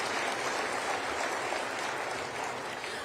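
Steady applause from the audience at Riverside's 2024 State of the City event honoring award winners, a soft, even wash of clapping heard at a distance without a break.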